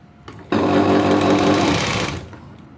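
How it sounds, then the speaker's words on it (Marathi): A sewing machine runs one fast, steady burst of about a second and a half, stitching the edge of a lined blouse sleeve on its reverse side, then winds down and stops, with no voices. "किनारी शिलाई मारायची उलट्या बाजूवर"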